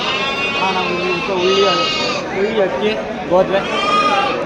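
Young lambs bleat on a sheep farm, with several close, loud, overlapping wavering cries that follow one another in quick succession throughout.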